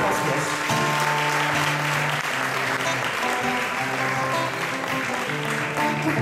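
Steady, dense applause from a crowd fills the whole stretch, with music continuing underneath.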